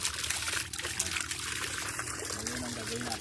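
Spring water runs into a fishpond in a steady, close trickle and splash, continuous and moderately loud, with a voice speaking over it.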